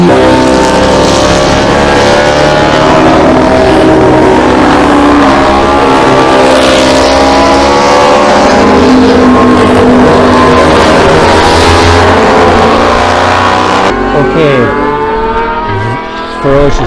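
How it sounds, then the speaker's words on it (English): Lower-cc racing motorbikes at a road race scream past with engines revving hard, a loud, close, sustained howl of several machines that shifts pitch as they pass, then trails off abruptly near the end. "Those particular bikes are of a lower cc value, and the engines are really revving to try and get the same power out of them."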